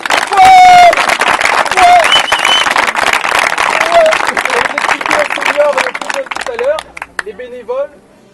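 A crowd claps and cheers loudly, with chatter and a few whistles mixed in, before the applause thins out and fades near the end.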